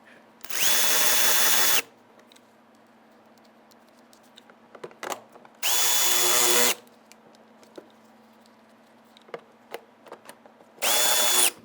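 A power drill drives fender liner screws on a 2011–2019 Ford Explorer in three loud, whining bursts of about a second each, separated by quieter handling clicks.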